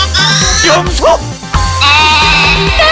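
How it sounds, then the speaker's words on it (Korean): A goat bleat rings out during a lively game-show board game, its wavering cry repeating over busy background sound and excited voices. "염소!"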